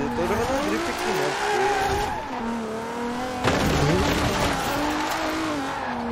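Car tires squeal through sustained drifts in Forza Horizon 4, with wavering high-pitched screeches over a steady engine drone that continue, loud and close, for the whole stretch.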